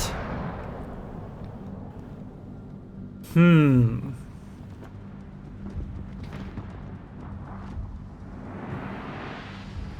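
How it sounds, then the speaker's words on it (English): A battleship main-gun salvo fires in the naval combat game World of Warships, a single loud booming burst with a falling whistle-like tone that fades within a second, over steady game ambience while people talk. "We're gonna get another salvo on the Vincent."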